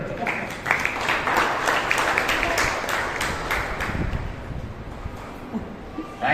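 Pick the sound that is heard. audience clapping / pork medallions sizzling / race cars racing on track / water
audience clapping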